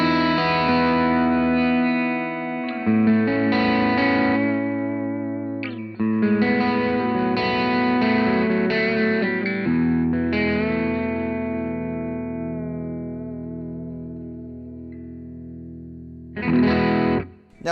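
Electric guitar through a Kinsmen Ethos overdrive pedal on its modern setting gives compressed, driven chords and sustained notes that ring loud and steady, pausing briefly before a final strum, with no talking.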